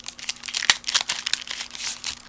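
Olive cardstock pressed through a Tufted Dynamic Textures embossing folder gives a short stretch of close crinkling and crackling, with a couple of sharp clicks along the way.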